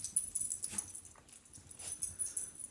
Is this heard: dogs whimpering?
yes